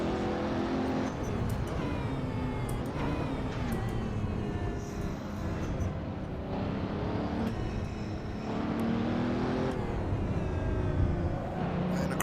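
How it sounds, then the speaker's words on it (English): Pagani Huayra BC in Assetto Corsa lapping the Nordschleife, engine roaring steadily at high revs with rising and falling pitch through gear changes, loud and continuous throughout. "that was a lap around the Nordschleife in the Pagani Huayra, BC"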